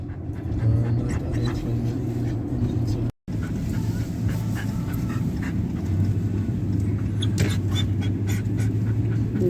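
A dog pants heavily and steadily in the back seat of a Dodge Ram 3500 dually pickup truck, with faint whimpers over a constant low cabin rumble and one brief dropout.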